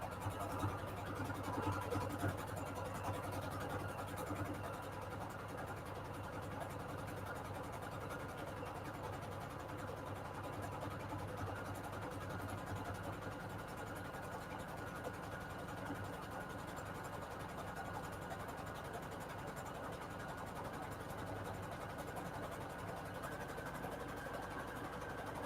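A sewing machine stitches a straight line on paper scrap trim, its motor humming and whirring steadily up close for a long stretch without pause.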